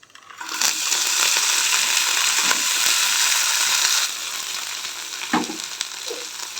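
Onion samosa filling fries in a pan with a dense, loud sizzle for several seconds, then fades to softer frying with a few stirring scrapes and knocks.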